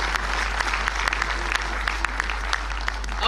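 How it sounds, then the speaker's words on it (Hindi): Audience applause at a lawyers' silver jubilee honour ceremony, a steady, dense clapping from a crowd with sharper individual claps popping out, fairly close and continuous throughout. "तो इसके लिए तो जोरदार ताली बजा दीजिए भाई।"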